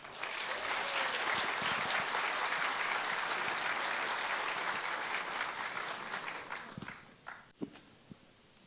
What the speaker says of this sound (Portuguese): chamamos, com uma salva de palmas, nosso querido amigo Gilson Freire